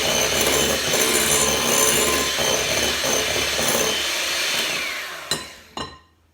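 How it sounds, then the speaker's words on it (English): An electric whisk beats egg white and sugar into meringue, a steady close whirring hum that fades near the end, followed by two sharp taps against the bowl. "we do continue to use the electric whisk"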